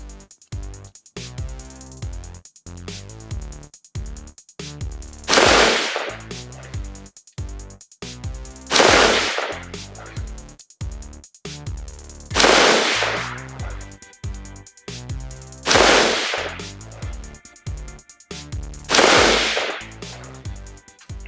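Five loud rifle shots from a Bravo Company Mk12 SPR fired at a target 100 yards downrange, evenly spaced several seconds apart, each a sharp crack over steady background noise.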